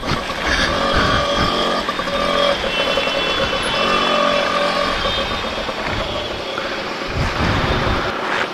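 A TVS Champ motorcycle engine revs loudly up close with a rough, continuous drone as it accelerates, its tone rising and falling over several seconds.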